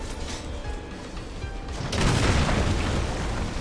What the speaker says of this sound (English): That's a cannon, not a laser.